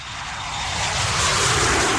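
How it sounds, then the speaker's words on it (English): A jet aircraft rushes past, its broad roaring whoosh swelling steadily louder over two seconds and holding at full strength, with no voices. "There he goes in his jet, right?"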